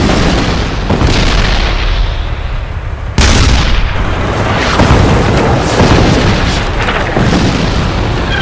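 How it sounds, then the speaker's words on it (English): A tank battle in the Vietnam War, with dense, continuous heavy gunfire and booming explosions. Loud rumbling blasts overlap with no break, and one sharp burst rises out of the din partway through. "The South Vietnamese open fire with deadly accuracy."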